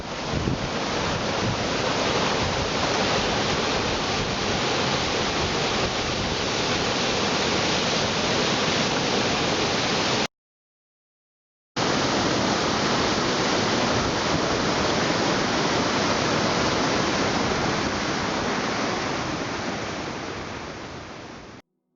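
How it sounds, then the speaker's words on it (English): High Falls waterfall on Manitoulin Island, heard from the top as a loud, continuous broadband roar of rushing water, broken by one brief silent gap midway and fading slightly at the end. "We stopped at High Falls to take in the sight of the waterfalls"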